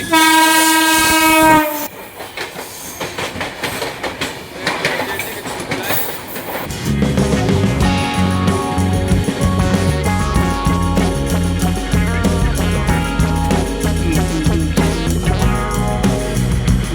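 A train passing through Palasa station in Odisha, opening with a loud horn blast, then a rumbling rush of carriages with rhythmic clickety-clack of wheels on rails, close and continuous.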